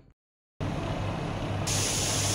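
Water added to a hot pot of mutton majboos, bursting into a loud, sustained sizzling hiss after a short silence, steady and close, growing brighter toward the end.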